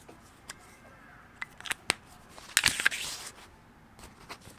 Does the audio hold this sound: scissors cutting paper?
yes